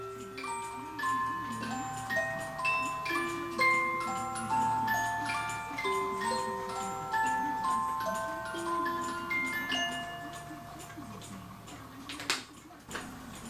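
A cuckoo clock ticks steadily at close range with a regular mechanical beat, though background music mostly covers it, and a sharp clack comes near the end.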